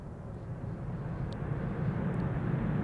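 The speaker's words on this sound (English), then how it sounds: "Ryanair using the reversers." Ryanair jet on the runway at Schiphol Airport on a calm, foggy day, applying thrust reversers: a low, distant engine rumble that builds gradually and stays steady, with no talking.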